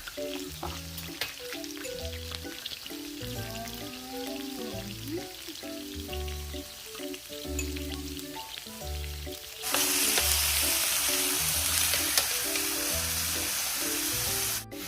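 Rice stir-frying in a pan, giving a steady sizzle beneath background music with tonal notes; the hiss swells noticeably louder and brighter partway through.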